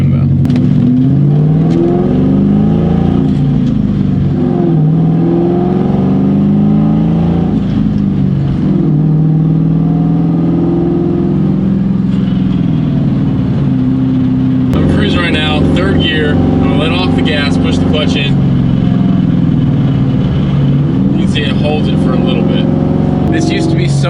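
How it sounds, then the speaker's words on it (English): A Ford Mustang GT engine hangs at raised RPM while driving, giving a loud, steady drone whose pitch rises and lingers instead of dropping, growing busier midway through. "I'll show you what the hanging RPM issue is that I'm talking about."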